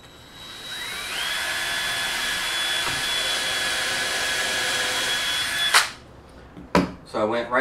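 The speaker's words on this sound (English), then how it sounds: "I'm gonna drill a hole through here." A power drill bores a hole through a wooden finger joint jig in the workshop, its motor whine spinning up and holding steady for about five seconds before stopping, followed by a few short clunks and handling noises.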